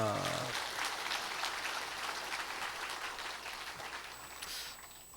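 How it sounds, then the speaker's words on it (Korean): Church congregation applauds the choir after a hymn, a steady, faint patter of clapping from a large room that slowly tapers off, with a brief voice at the start. "오늘도 우리 귀한 찬양을 들려준 우리 할렐루야 찬양대 격려의 박수."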